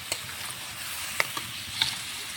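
Butter melting and sizzling in a kadai over a flame as it is cooked down into homemade ghee, a steady soft crackle broken by a few sharp pops, close and alone.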